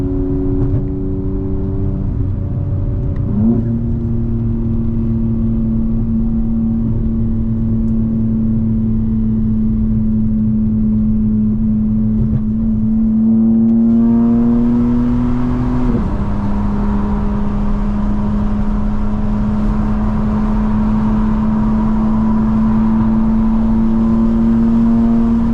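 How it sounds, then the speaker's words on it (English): A 2025 BMW M4 Competition, traction control off, pulls hard under full throttle through several gears, its full exhaust note rising in pitch, dropping sharply at each upshift and climbing again, loud and close from inside the cabin. "It doesn't cut the throttle, and you're getting the full exhaust note."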